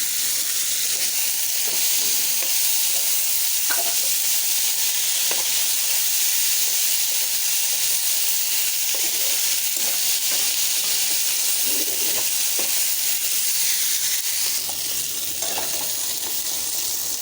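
Potatoes fry with turmeric and dried chili powder in a pan, a steady dense sizzle and hiss running throughout, with occasional scrapes and stirring knocks, close and unbroken, no voices.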